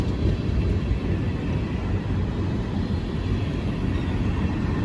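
A freight train with a lead engine climbs a long grade, making a loud, continuous, dense rumble of engine and rolling wagons that holds steady throughout, close by and with no voices.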